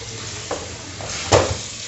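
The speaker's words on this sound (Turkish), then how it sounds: "Ve kovamı sıcak suyla gayet güzel bir şekilde durulayacağım." Hot water is used to rinse out a plastic home-brewing fermentation bucket, heard as a soft wash of running water with a brief splash and slosh near the end.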